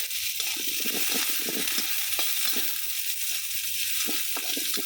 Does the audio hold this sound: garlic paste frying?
yes